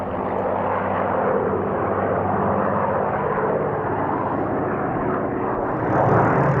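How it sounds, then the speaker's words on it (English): A Griffon-engined Spitfire flies a display at the Duxford airshow, its piston engine roaring loudly and steadily as it passes, with the tone shifting slightly toward the end. "This display shows how the performance of the Spitfire improved once the Griffon engines were fitted."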